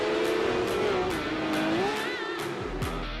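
Race cars rev hard and their tires squeal at the start of a Porsche eSports Supercup round at Monza in a racing video game, a loud, dense engine roar that rises and shifts pitch throughout.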